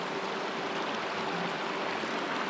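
A mountain creek beside a dispersed campsite among aspens rushes in a steady, broadband wash of flowing water, close and continuous, with no voices.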